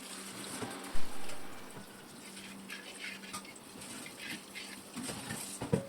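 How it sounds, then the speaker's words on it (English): Quiet running tap water splashing into a clay pot being rinsed, with a few clunks and knocks from handling the pot. "Now rinse the pot with water."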